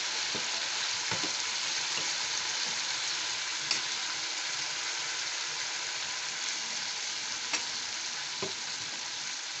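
Marinated chicken fries in a pan for chicken kosha, a close, steady sizzle broken at intervals by scraping clicks of a spoon stirring and knocking against the pan.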